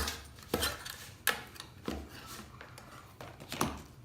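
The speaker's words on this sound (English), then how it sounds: "I wanna give it a quick stir." A stick or tool stirs wood floor stain inside a metal can, knocking against the sides in a few sharp, irregular clinks and scrapes, close up with no talking.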